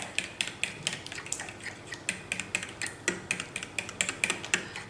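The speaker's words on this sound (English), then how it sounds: "all I'm going to do now is add this to 2 eggs that I have in this bowl. And I'm going to mix that together" A quinoa mixture is beaten together with two eggs in a bowl for gluten-free garlic bread. It makes quick, rhythmic clicking taps of a utensil against the bowl, close and fairly light, with no talk.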